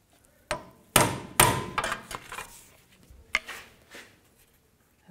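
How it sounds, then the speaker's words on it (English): A hammer taps a washer beneath a 2004-2008 Nissan Maxima during an inner tie rod replacement: a handful of sharp, close metallic knocks at uneven intervals, with quiet gaps between them. "And give it a tap with a hammer."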